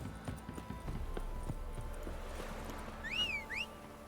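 Hooves of the horse Roach clip-clopping in the video game The Witcher 3, a quick irregular run of hoof strikes up front that fades into a soft steady background, followed by a couple of short high whistling chirps near the end.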